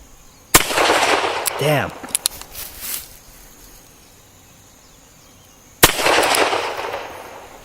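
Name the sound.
gunshots from an old gun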